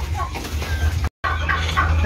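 A rooster clucks several times nearby, with a short cut of silence midway and low background noise throughout.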